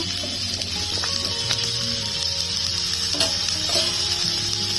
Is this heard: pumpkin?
yes